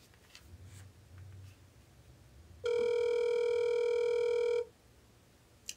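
A voicemail recording tone sounds after a quiet telephone line: one loud steady electronic beep lasting about two seconds, then near silence.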